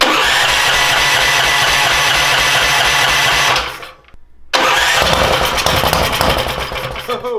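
A 440cc DuroMax engine fitted in a Kawasaki Mule runs loud and rough close by, cuts out for about a second, then fires back up and settles into a steady, throbbing idle.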